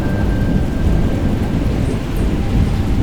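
Summer thunderstorm in the desert among mesquite, steady broadband rain and rumbling thunder filling the whole stretch at close range, no voices.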